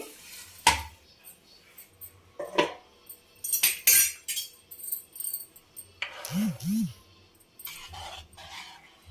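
Mutton pulusu (mutton curry) being moved from the cooking pot into another vessel. Close, intermittent clinks, clatters and scrapes of a utensil against metal, with short pauses between them.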